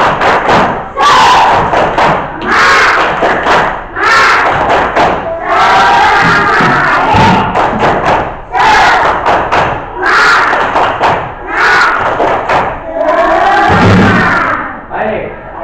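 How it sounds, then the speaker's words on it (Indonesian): Students in a classroom perform a rhythmic spirit clap with shouted cheers, loud group bursts of claps and thumps in a steady pattern with voices chanting together throughout. "Tepuk semangat!"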